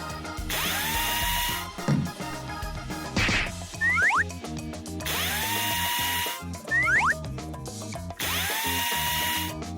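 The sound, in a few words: drill used to assemble a frame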